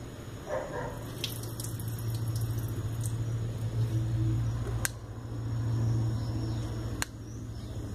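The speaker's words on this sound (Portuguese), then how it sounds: "Vou tirar um pouco de água que tem aqui para poder pegar as que estão embaixo." Water poured off seeds sitting in a container, a steady splashing trickle over a constant low background hum, with a couple of sharp clicks along the way.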